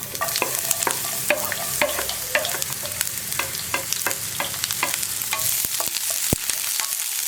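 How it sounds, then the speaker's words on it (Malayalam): Sliced onion sautés in a pan with popped mustard seeds for a drumstick-leaf and cowpea thoran: a constant sizzle under repeated sharp scrapes and taps of a stirring spoon, close and steady. "ഇനി സവോള ഒന്ന് സോഫ്റ്റായി വരുന്നത് വരെ നന്നായിട്ട് വഴറ്റിയെടുക്കുക"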